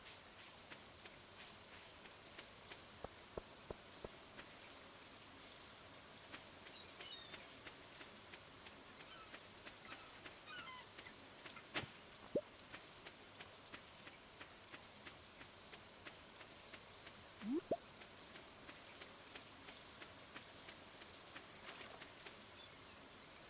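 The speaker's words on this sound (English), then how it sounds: "Nice rainy day." Steady rain on a rainy day in the farming game Stardew Valley, heard as a soft, even hiss with faint scattered drop ticks throughout, quiet and without voices.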